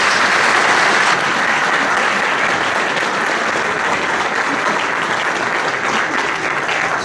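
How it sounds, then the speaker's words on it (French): Sustained applause from a rally audience fills the whole stretch, dense steady clapping with no speech over it, loud and close throughout. "Merci de l'applaudir."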